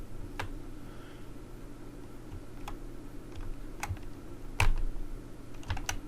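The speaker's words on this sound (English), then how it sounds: "You're gonna type the creditor" Computer keyboard keys clicked in a scattered rhythm of single taps and short bursts while entering creditor details in credit repair software, close and fairly quiet over a low steady room hum.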